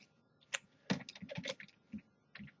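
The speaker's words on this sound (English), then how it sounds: "I'm just going to type out the spots real quick" Quick bursts of typing on a computer keyboard, the keystrokes clustered in uneven runs with short pauses between them, close and fairly quiet, with no talking.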